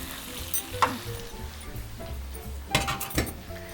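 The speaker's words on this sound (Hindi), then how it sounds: "और अब हम करेंगे इसको फ्राई बहुत अच्छे से।" Mutton frying in a pan, a soft low sizzle with a few clinks of a utensil stirring against the pan.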